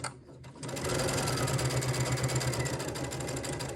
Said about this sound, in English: we'll sew a seam